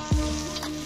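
Whole spices, chopped onion, green chillies, whole garlic and curry leaves sizzle in hot oil for a chicken fry, with a close, steady frying hiss and a brief low clatter of stirring at the start.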